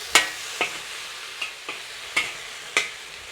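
French beans stir-fried over high heat for a Singapore zi char dish with dried shrimp, a continuous hiss broken by about six sharp scrapes and tosses of the spatula at uneven intervals.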